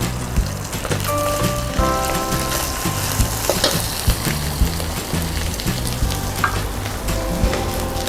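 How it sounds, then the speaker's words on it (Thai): Cooked rice frying in oil in a pan: a loud, dense, continuous sizzle and crackle like heavy rain, with occasional stirring knocks, close up and with no voices. "จากนั้นใส่ข้าวสวยหนึ่งถ้วยตัว"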